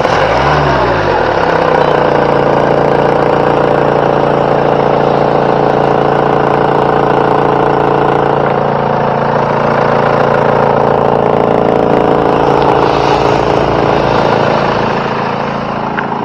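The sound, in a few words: Mahindra Verito car engine idling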